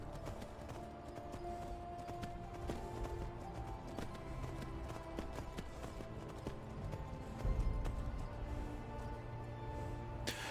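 Horse hooves clip-clop at a run in Skyrim, steady and mid-distance, layered under game music and ambient sound with no talking.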